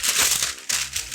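Crisp crinkling and crumpling of parchment paper, close up, in a quick continuous burst with a short pause partway through.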